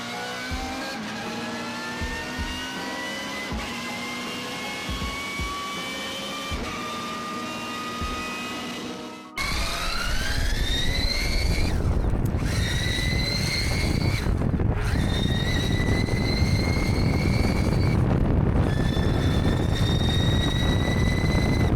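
A high mechanical gear whine from a 250 Nm electric mountain bike motor climbs in pitch again and again, dropping briefly between surges, over a constant motor rumble with no talking.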